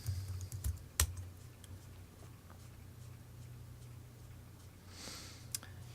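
Fingers type on a computer keyboard close to the microphone, giving quick light clicks in short bursts over a low background hum.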